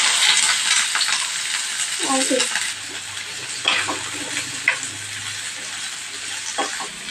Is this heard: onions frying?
yes